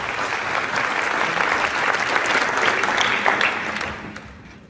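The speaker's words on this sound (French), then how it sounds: "On peut les applaudir." Sustained applause from an audience at a business gala evening, a dense steady clatter of clapping that fades out near the end.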